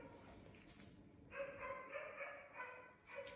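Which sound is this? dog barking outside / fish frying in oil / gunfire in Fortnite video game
dog barking outside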